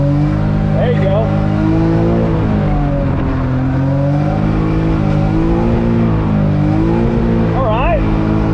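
A Nissan 240 drifts with handbrake and throttle, its engine revving loud and near, the pitch rising and falling as the car slides and rotates, while someone talks over it throughout.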